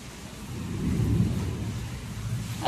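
A low, rolling rumble of thunder swells and fades over a couple of seconds, with a soft hiss of heavy rain and wind behind it.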